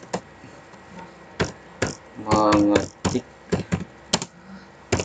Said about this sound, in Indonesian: ini mengetik surat atau mengetik surat tugas dan SPPD ya.